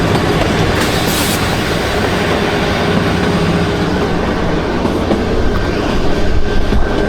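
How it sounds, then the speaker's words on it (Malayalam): Kalka–Shimla toy train, the Himalayan Queen, rolling along its mountain line, a loud continuous rumble of wheels and carriages with faint rhythmic clatter throughout, heard from on board. "നമ്മളിപ്പോൾ യാത്ര ചെയ്തുകൊണ്ടിരിക്കുന്നത് കൽക്കയിൽ നിന്ന് ഷിംലയിലേക്ക് പോകുന്ന അവസാനത്തെ ട്രെയിൻ."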